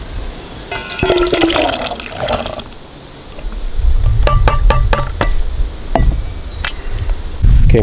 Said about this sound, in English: Came down to rinse my hands at the lake